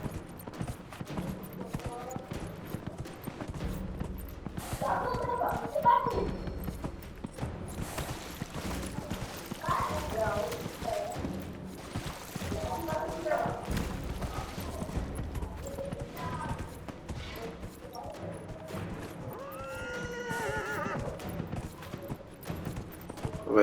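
Horse hooves clip-clop steadily in the video game Dragon Age: Inquisition, with game effects and faint voices over a constant background bed.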